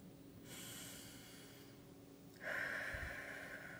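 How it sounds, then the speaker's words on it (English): A person draws a deep breath in through the nose, a soft airy inhale followed by a louder, rushing intake and exhale, close and quiet with no talk. "You take a breath,"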